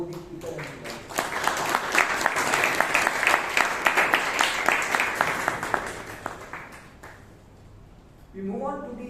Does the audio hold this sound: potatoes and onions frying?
no